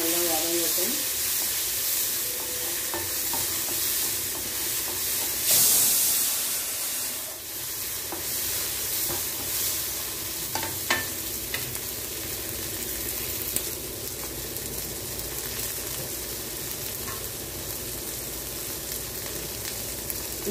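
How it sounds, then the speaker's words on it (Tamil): Shallots and tomato sauté in a pan, giving a steady broadband sizzle and frying hiss that runs throughout with occasional stirring clatter, fairly close and constant. "சாம்பார் வெங்காயம் லேசாக வதங்கணும்னா ஒரு பாதி தக்காளி, அதுவும் நல்லா வதங்கட்டும்."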